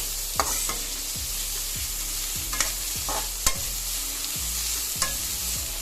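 Onions sauté in a pan for egg fried rice, a steady sizzle broken by several sharp stirring scrapes and clinks of a spatula at roughly one-second intervals; no voices.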